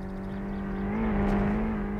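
A car engine in My Summer Car droning with a steady hum that swells slightly louder midway as the vehicle passes close by, with no talking over it.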